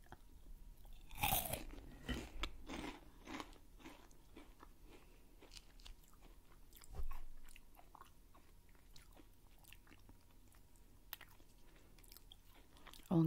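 Crispy chocolate balls from a Kinder Joy treat crunch and get chewed close up, with a few loud bites early on and quieter chewing after, in a quiet room.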